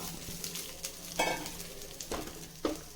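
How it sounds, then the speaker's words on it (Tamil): Beans sauté in hot oil in a pan for a Tamil veg diwani dish, giving a soft, steady sizzle broken by several light scraping stirs of a spatula, fairly faint and close, with no talking. "இப்போ இந்த பீன்ஸை நம்ம வதக்கிக்கலாம்"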